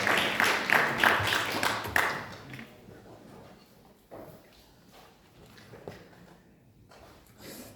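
A church congregation claps together at a worship service, dense applause that swells for about two seconds and then thins into scattered claps and fading patters.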